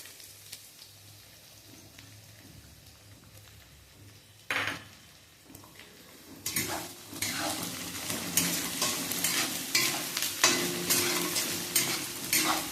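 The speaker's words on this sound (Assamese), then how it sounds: "পিঁয়াজখিনিও মই ভালদৰে ভাজি ল'ম।" Onion, garlic and ginger fry in a pan for a dhaba-style paneer gravy, first as a quiet low sizzle, then after a clatter turning into a loud, busy crackle with repeated stirring scrapes and utensil knocks.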